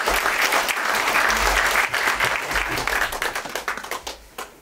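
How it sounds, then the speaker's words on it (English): A live audience claps continuously for a speaker, Simon Parkes, dense and steady at first, then thinning into scattered individual claps toward the end. "So, guys, big round of applause for Simon Park."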